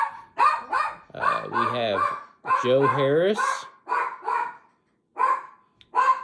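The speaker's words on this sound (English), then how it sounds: "I do apologize for my dog." A dog barks repeatedly indoors in sharp yips and whimpering barks, loud and close, mixed with someone talking over it during a sports card box break.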